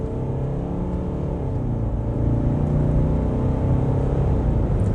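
A 2011 Mercedes C220 CDI W204 diesel accelerates hard under full power on a straight, its low engine drone rising and swelling steadily in pitch and loudness from the cabin.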